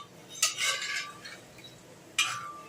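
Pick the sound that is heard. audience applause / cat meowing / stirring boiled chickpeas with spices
stirring boiled chickpeas with spices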